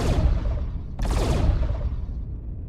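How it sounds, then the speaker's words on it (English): Light strike weapons firing in the Star Citizen space game: a dense, continuous barrage of loud energy-gun shots, with a fresh burst cutting in about a second in, then tailing off slightly. "Those are the light strikes, the new sounds for the light strike weapons."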